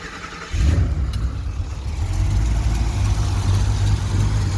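Twin-turbo Chevrolet Suburban engine fires up and settles into a steady, fairly loud idle with a low rumble, its mufflers closed through the cutout so the sound stays mild, with no talking.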